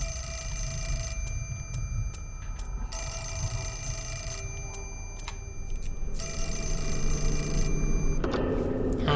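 Telephone ringing in the Fatal Frame IV video game, a repeating ring held steadily over ambient game music and noise, with a brief shift near the end.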